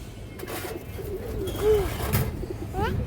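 A ring-eyed pigeon of an old Bangladeshi breed gives a soft coo amid faint background noise, a single short call near the middle with brief rustles around it.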